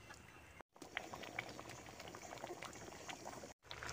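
Vegetable dal bubbles steadily in a pot, a close, low-level crackling simmer with dense small pops throughout and two brief cutouts.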